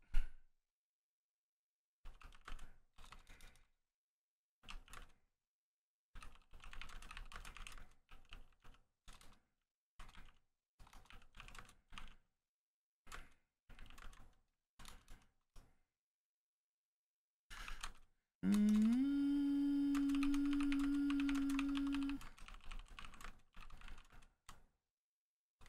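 Computer keyboard typing in short bursts of rapid clicks separated by silent pauses, close and clear, followed near the end by a few seconds of a louder sustained tone mixed with clatter.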